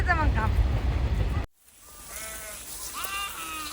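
A flock of sheep bleats outdoors while being driven toward water in the countryside: a few wavering bleats over heavy wind-like rumble at first, then clearer, nearer calls after the noise drops away.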